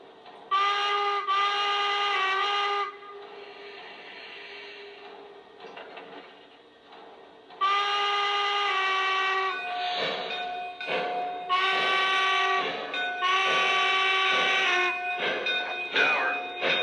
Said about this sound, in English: let me now go ahead and wrap up the video by taking the locomotive for a spin around the layout